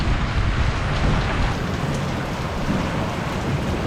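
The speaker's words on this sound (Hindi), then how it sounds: "बहुत तेज बारिश हो रही है जी।" Heavy rain pours steadily in a Pakistani village, a dense, loud, continuous hiss with no voices over it.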